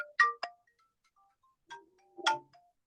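A telephone ringtone plays short electronic chime notes in a sparse melodic pattern, close and clear against silence, with no talking.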